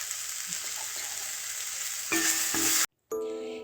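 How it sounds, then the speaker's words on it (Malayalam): Onion, tomato, ginger, garlic and green chillies sautéing in a pan give a steady, close frying sizzle with a few stirring scrapes, rising louder near the end before a brief silent cut. "അതിലേക്ക് രണ്ട് മൂന്ന് പച്ചമുളക് കൂടി ചേർത്ത് നന്നായിട്ട് വഴറ്റി"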